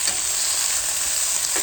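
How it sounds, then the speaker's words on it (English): Food sizzles and crackles steadily in oil on a Callow four-burner plancha, a loud, close, continuous frying hiss without talk. "As you can hear now, there's more sizzling."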